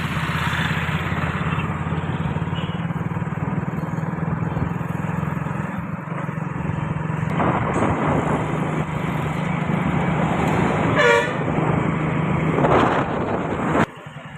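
Busy one-way road traffic in an old town, a continuous near rumble of scooter and car engines passing close by with a few brief horn-like tones, and no one speaking.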